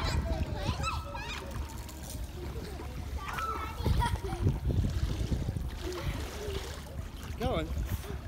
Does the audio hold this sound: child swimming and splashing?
yes